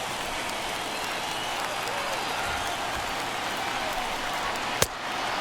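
Baseball stadium crowd at a Red Sox game applauding in the ninth inning, a steady dense wash of clapping and crowd noise throughout, with a single sharp crack near the end.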